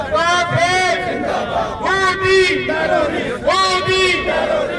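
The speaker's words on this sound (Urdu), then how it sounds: "پاک فوج زندہ باد، پاکستان کا مطلب کیا کہ فلک شگاف نعرے۔" Loud crowd of Pakistani protesters in France chanting slogans in unison against the Indian government, rhythmic shouted phrases repeating in waves with voices rising together over a dense street babble.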